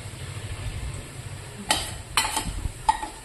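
Vegetables with turmeric are stir-fried in a pan with a faint sizzle, and a few sharp clinks and scrapes of a spoon against the pan come near the end.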